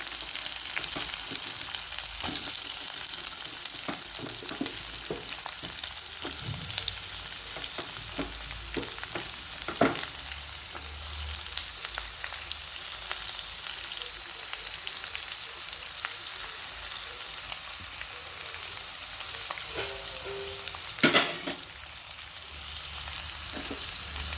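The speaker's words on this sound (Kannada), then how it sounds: "ಕಡಲೆಬೇಳೆ ಕಾಯ್ತಿದ್ದಂಗೆ ನಾನು ಒಣಮೆಣಸಿನ್ಕಾಯಿ ಹಾಕ್ತೀನಿ ಒಗ್ಗರಣೆಗೆ ಮತ್ತು ಈರುಳ್ಳಿ ಹಾಕ್ತೀನಿ" Chana dal, dried red chillies and onion sizzle steadily in hot oil for a tempering, with occasional stirring clinks and scrapes and a sharper spit near the end. No voices.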